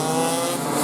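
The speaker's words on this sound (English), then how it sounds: "The Marineland Bundaberg driver spins it out." Race car spinning out at the exit of a complex during a heavy-class final at a speedway, a loud continuous engine roar with steady tyre and motor noise throughout, no talk.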